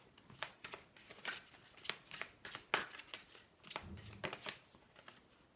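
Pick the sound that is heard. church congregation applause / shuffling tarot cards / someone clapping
shuffling tarot cards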